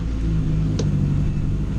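A car with a swapped-in big block engine, run without boost on wastegate pressure, rumbles loudly and steadily as it pulls away on its first drive, a deep low drone close by.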